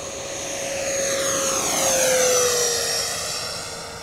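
A Freewing F9F-8 Cougar 80mm EDF scale model jet makes a loud, high whining ducted-fan roar during a flypast. It rises and falls in pitch as the jet passes close by, with no talking.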